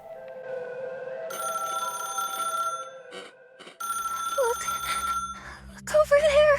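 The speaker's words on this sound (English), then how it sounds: "you hear the high-pitched ring of the phone" A telephone rings in the video game Path to Nowhere, a high-pitched electronic ring repeating in long bursts over game music and tones, with a brief break midway.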